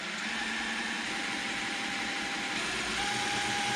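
A drill spins the magneto of a John Deere A tractor at low speed, giving a steady, loud, continuous motor whine with a faint humming tone throughout and no talk.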